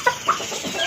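An Asil gold rooster gives a few short, close clucks in quick succession, two sharper bursts standing out over a soft background hum.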